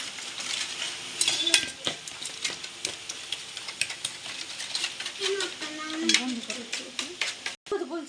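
An egg paratha mixture with chili powder is stirred briskly in a bowl, giving scraping and clinking spoon strokes in an uneven rhythm, close and moderately loud, over light kitchen background noise.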